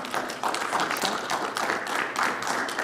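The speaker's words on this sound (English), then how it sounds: "So round of applause to Sasha." Audience applause for an award winner at an NFT art show, a moderate crowd clapping steadily for a few seconds, with individual claps audible within the wash.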